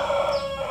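A rooster crowing in a rural setting in Tiền Giang, a single sustained, fairly faint call against steady background noise.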